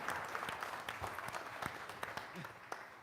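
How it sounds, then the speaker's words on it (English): Birthday applause for a 95-year-old at an award ceremony, with scattered claps from a modest audience ringing out under a voice speaking over them. "let's give O'Neill another big happy birthday applause"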